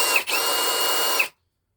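A Parkside Performance cordless impact drill whirs steadily in hammer mode at close range for just over a second, briefly dipping at the start, then cuts off into silence.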